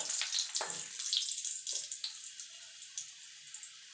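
Three dry red chillies crackle and spit in hot mustard oil, a close, bright sizzle with scattered sharp pops that fade gradually, with no talking.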